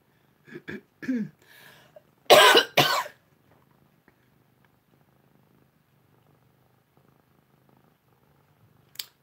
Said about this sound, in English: You can hear her purring.